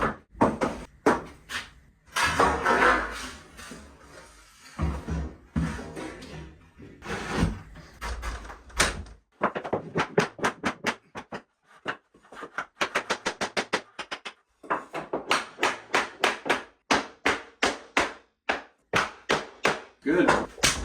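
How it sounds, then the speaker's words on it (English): Hammer tacking nails into a beadboard ceiling, a long run of sharp, evenly spaced knocks that come in quick bursts, close and loud, with a few muffled handling noises between the strikes. "I'm going to come back and I'm just going to tack all the way down."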